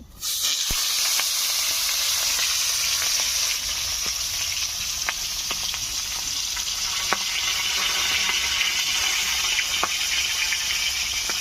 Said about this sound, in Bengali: মাথাটা উল্টো পাল্টে ভেজে নিচ্ছি